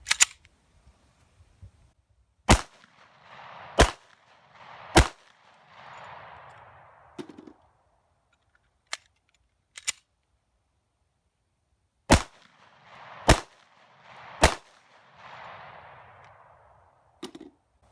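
Gunshots from a Smith & Wesson pistol fired through magazines outdoors: sharp, loud single cracks in two clusters of three or four, separated by quiet pauses with faint handling noise.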